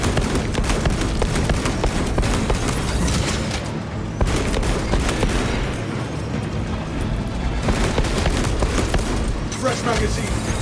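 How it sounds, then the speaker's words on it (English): Frag grenade blasts and heavy gunfire in Warhammer 40K Space Marine 2, with a dense, loud, continuous barrage of bursts and booms and brief lulls in between, overlaid by game voices. "Launching frag grenade!"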